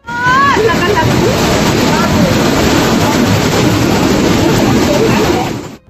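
Loud, steady roar of rushing flood water in China fills the whole stretch, dense and churning, with faint voices and a few higher calls mixed into the din.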